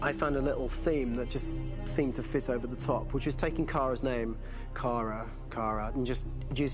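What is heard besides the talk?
No distinct noise like a dog, phone or traffic.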